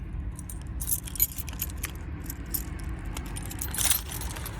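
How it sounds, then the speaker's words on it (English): Metal keys jangling and clinking in short bursts while someone fumbles for the right key to lock a van door in a cinema car park, close and fairly loud over low traffic rumble. "Can't even find the right key."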